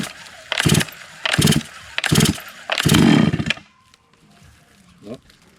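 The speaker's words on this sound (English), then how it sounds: "let's see if she still fires up on the first pull," Four loud, rhythmic bursts as a 92cc chainsaw that has sat unused for six months without fresh fuel is pulled over, each pull giving a short sputtering rasp before it falls quiet, with faint handling noise afterward.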